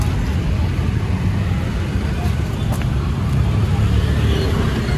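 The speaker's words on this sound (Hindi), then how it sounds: "देखो गाइस बैंगलोर की ट्रैफिक" Dense Bangalore road traffic rumbles continuously, with engines and tires close and loud, heard from a scooter, with no voices.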